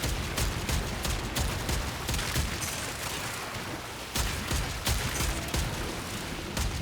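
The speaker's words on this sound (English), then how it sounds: "someone is shooting me very hard" Gunfire in the Warframe video game, a dense, continuous barrage of rapid shots with heavier impacts mixed in, loud and close throughout.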